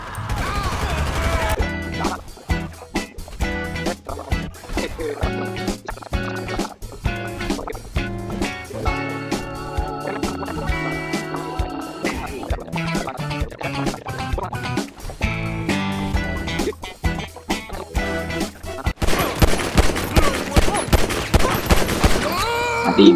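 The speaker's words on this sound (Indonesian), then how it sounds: "kalau kita bisa damai kenapa sih harus tembak-tembakan begini?" Rapid gunfire bursts from a shootout in GTA V story mode, dense and loud against game music and crashing effects, with a heavier volley of shots near the end.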